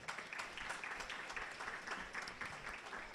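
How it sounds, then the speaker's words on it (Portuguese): A debate audience applauding a candidate for federal deputy: a faint, fairly distant wash of clapping from a crowd, steady and even throughout with no voices on top. "Nós continuaremos os aplausos por candidato"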